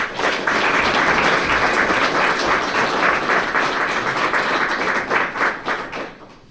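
Audience applause for six lecturers at an event marking World Water Day and World Meteorological Day, a dense, steady crowd clapping that holds loud for about five seconds before thinning into a few scattered claps and fading.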